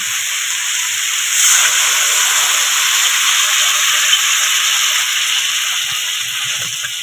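Water splashed into sizzling crab curry masala in a hot pan sets off a loud, steady steam hiss that surges briefly at the start and then holds evenly, close up, with no talking.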